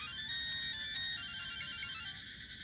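A mobile phone ringtone plays a bright, repeating electronic melody, faint and alone, with no voices.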